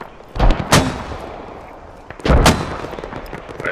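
Heavy mortar fire in the video game Squad, with two loud booming blasts about two seconds apart, each with a sharp crack and a rumbling tail, heard alone.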